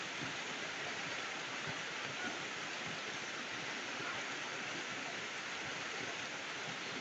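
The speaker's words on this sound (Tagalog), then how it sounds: "Saka malakas din yung ulan." Heavy rain pours down in an even, unbroken hiss that stays at the same level throughout.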